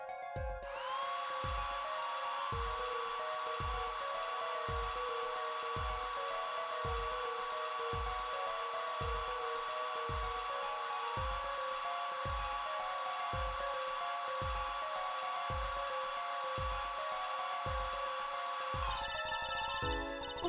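A hair dryer in the Apollo Justice game blows steadily, drying plaster with a constant whirring hiss, while a rhythmic low thumping pulses beneath it throughout, and the dryer cuts off near the end.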